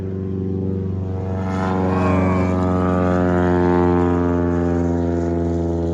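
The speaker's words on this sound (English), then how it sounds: "there's a frickin' plane in the water. Oh, there it goes." A seaplane's propeller engine drones steadily, its tone swelling as it passes nearby over water, then holding loud and even.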